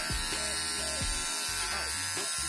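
Electric hair clippers buzz steadily while fading the side of a head during a home haircut, close and continuous with short pauses and shifts as the blade moves, a voice talking over the hum.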